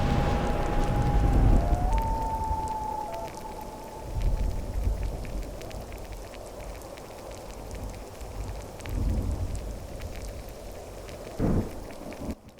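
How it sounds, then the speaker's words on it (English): Stormy wilderness ambience from the video game Skyrim: steady rain falling on rocks with gusting wind and low rumbles, a faint tonal call early on, continuous and fairly loud, no talk. "we've got the wind, the rain landing on the rocks. There's owls and animals in the distance."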